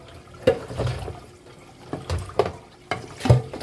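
Tap water splashing in bursts while tuna (tulingan) is rinsed and cleaned in a sink, with a few distinct splashes and clatters at irregular intervals, fairly close.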